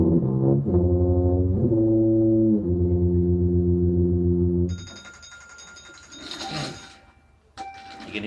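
Tuba played by a 7th grade band student at band finals: a few sustained low brass notes in a short stepwise line, then the tone stops and faint clatter and a ringing tone follow.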